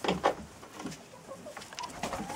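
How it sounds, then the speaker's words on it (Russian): A laying hen clucks softly nearby in a few short irregular bursts just after her egg has been taken, quiet low-level sounds with no one talking. "Вот снимаю вам эту курицу, у которой вот только что забрала яйцо."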